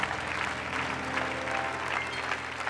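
An audience at a church seminar applauds steadily throughout, a dense wash of clapping heard from within the room, moderately loud with no voices on top.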